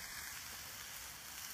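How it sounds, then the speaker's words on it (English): Onions frying in a pan at a wild camp in the woods, a faint steady hiss of sizzling with no voices. "Onions are frying."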